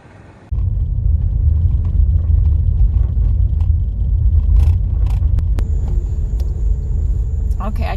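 A car starts moving along a long, potholed dirt road to Sarteneja, Belize, a sudden loud, steady low rumble of engine and tyres taking over after half a second, with scattered rattles and thumps inside the cabin.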